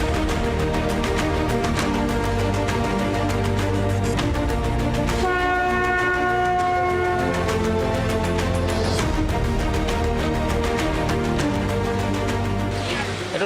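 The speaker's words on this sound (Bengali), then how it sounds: "শিয়ালদা দক্ষিণে ডাউন লক্ষ্মীকান্তপুর লোকালে উঠবো আমরা" Ride aboard a Lakshmikantapur local train out of Sealdah South, with loud continuous rumble and clatter of the carriages and a sustained horn blaring in the middle, close and dominant throughout.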